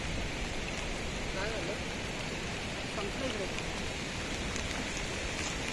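Steady rain falls in Sandhan Valley, a dense, continuous hiss filling the whole stretch with no breaks, close and fairly loud.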